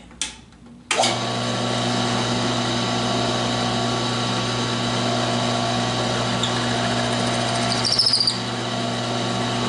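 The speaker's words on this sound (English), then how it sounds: "give this a slight reaming and then change bits to 3/4 inch and countersink for this" A power drill bores into wood, reaming a hole and countersinking it with a 3/4 inch bit, kicking in abruptly after a short pause and holding a steady, close whine, with a brief rattle near the end.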